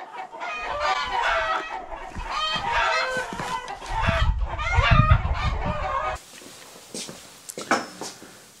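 Chickens clucking and squawking in an agitated flurry nearby, with repeated overlapping clucks and calls, one rooster-like crow among them, then the birds settling into scattered softer clucks.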